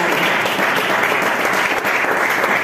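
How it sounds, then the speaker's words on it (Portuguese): A church congregation at a worship service claps in warm applause, a steady, dense wash of many hands at close range that holds evenly from start to finish without any talking. "A irmã Gideci, receba com as palmas que das mãos."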